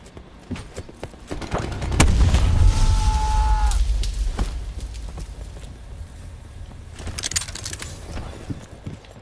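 Cluster grenade explosions in Call of Duty: Black Ops 4, a loud burst of rumbling blasts and crackling detonations, followed by scattered gunfire and game effects.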